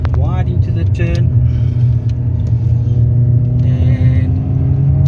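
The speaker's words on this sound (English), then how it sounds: "So we are now at second gear. We're going to pick up some speed." On a tyre test drive, a car pulls hard in second gear, its engine a close, steady rumble that builds in speed while someone talks over it.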